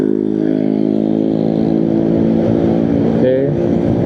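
A single-cylinder Yamaha X-Max scooter with a racing exhaust idling and revving loudly up close, a rough steady drone with a brief pitch rise near the end.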